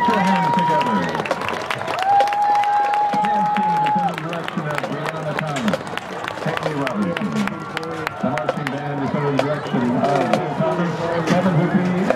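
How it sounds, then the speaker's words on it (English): A stadium crowd applauds a high school marching band's halftime show with steady clapping and cheering. Voices and a long whistle-like tone carry over the applause throughout. "Come on, Vikings, put your hands together."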